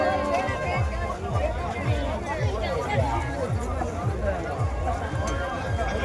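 A dense crowd fills the Pabuji Bhil community village fair in Pali, Marwar, in 2026 with a continuous babble of many voices. Footsteps and bustle thump in a loose rhythm throughout, and a nearby person also talks.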